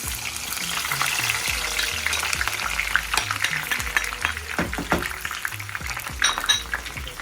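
Onions sizzling in hot oil in a pan, a bright steady frying hiss with scraping stirs and occasional clinks of a utensil against the pot, close and continuous.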